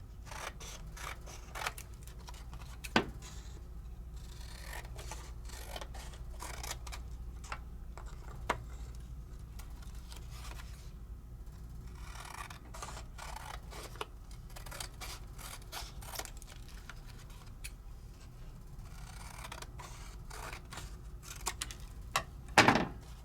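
Scissors cut a paper flower shape out of a layering stencil, giving a faint, steady run of small snips and clicks with a few louder ticks spread through it.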